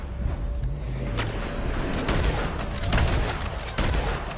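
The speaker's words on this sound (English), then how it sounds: "Oh, he's shooting at me." Shots ring out in an online multiplayer game, a steady spray of gunfire bursts with booming impacts crackling across the whole clip, fairly loud and continuous with no talking over it.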